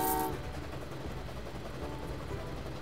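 A train in the Train Valley 2 game rumbles along steadily, opening with a short horn blast before settling into a low, continuous rolling drone at moderate volume.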